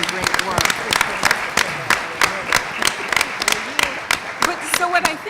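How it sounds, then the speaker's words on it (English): Audience applause at a Columbus neighborhood conversation event on diversity and inclusion: a steady, moderately loud patter of many hands clapping for several seconds, with no talk over it. "let's give First Lady Ginther a big round of applause for just doing some great work"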